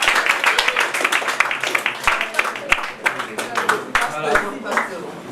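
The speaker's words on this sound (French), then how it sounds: "Je citerai ici, sous vos applaudissements, Océré Prodige." Audience applause for Océré Prodige at a civil society and NGO consultative council event, a steady run of many hands clapping that fills the whole stretch at moderate loudness, with some talk mixed in.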